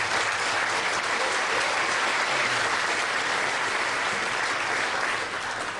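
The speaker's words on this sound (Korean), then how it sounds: "박수 한번 치십시오." An audience at a New York Korean community night gala claps in a steady, dense wash of applause that holds evenly throughout and fades slightly at the very end.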